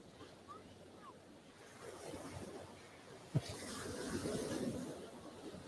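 Ocean surf washing onto a Hawaii beach, a steady broadband wash with rolling swells and wind noise, one sharp thump partway through, no voices.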